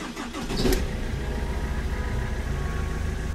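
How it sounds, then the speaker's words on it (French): A BMW E46 with the M47N diesel engine cranks and catches within the first second, then settles into a steady, rhythmic diesel idle clatter that continues close by without talk. "on va maintenant démarrer la voiture et la laisser au ralenti"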